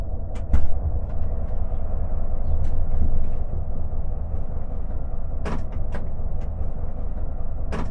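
Freight train wagons of a 22-wagon rake being shunted, heard from the locomotive cab: a steady low rumble with a few sharp metallic clanks and knocks, loud and close, with no talk.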